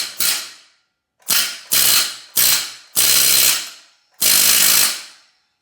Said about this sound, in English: the air hammer will engage.